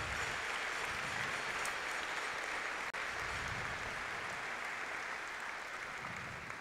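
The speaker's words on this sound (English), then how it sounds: "Let's give yourselves one last round of applause for what was an incredible championship." Steady, sustained applause at a volleyball championship closing ceremony fills the room, loud and continuous throughout with no talk over it.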